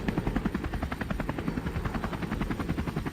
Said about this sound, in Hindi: इससे हेलीकॉप्टर हवा में उड़कर इधर उधर घूमने लगता है।